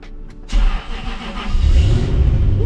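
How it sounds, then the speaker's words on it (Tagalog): A V8 car engine cold-starts, cranking and catching at about half a second, then settles into a loud, rough idle with rising rumble, close by. "Cold start."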